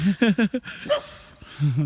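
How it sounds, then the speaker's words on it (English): Dogs barking outdoors in the evening, a quick run of four sharp barks followed by a whine and then two more barks, fairly close and moderately loud with no talk over them. "You got your dogs there."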